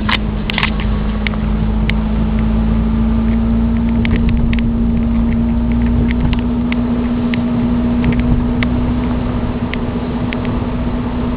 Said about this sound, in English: It does have quite a knock to it, but it's not the engine, it's the alternator.